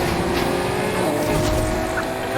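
Upgraded, engine-swapped car engine revving steadily in the Need for Speed Heat racing game, a continuous loud drone with faint tire noise and no pauses.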